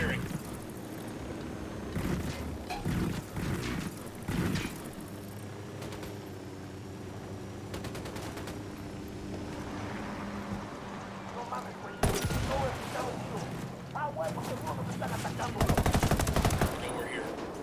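Gunfire in a video game firefight, rattling machine-gun bursts and scattered shots that come and go over about eighteen seconds, heaviest near the start and toward the end, with voices talking throughout.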